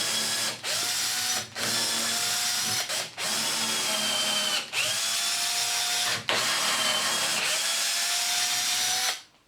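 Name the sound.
power drill drilling holes in wood pieces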